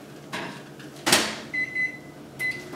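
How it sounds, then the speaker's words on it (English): A microwave hums while heating two cups of water, with clicks and a door thud, followed by a few short high electronic beeps. "2 cups of water that I'm going to be heating up in the microwave"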